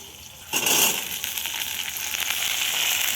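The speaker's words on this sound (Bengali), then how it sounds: "এবার আলু দিয়ে আর পেঁয়াজ দিয়ে ভাজবো।" Potatoes tipped into a pan of frying onions set off a sudden, loud burst of sizzling that settles into a steady, crackling fry, close and without talk.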